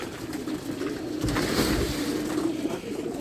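Soft cooing of racing pigeons, a few low throaty calls rising over steady outdoor background noise, fairly close.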